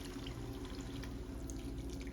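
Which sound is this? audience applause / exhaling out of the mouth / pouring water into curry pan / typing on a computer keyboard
pouring water into curry pan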